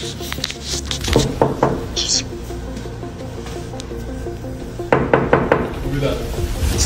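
Knocking on a door comes in two bursts of quick raps, several sharp knocks early and another cluster near the end, with talking and background sounds around them.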